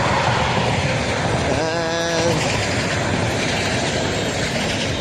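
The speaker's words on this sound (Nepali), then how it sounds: "दुईटा ट्रेन छ त" Two passenger trains pass close by in a loud, steady rumble that fills the whole stretch, with a brief tonal horn-like whine rising midway. No one talks over it.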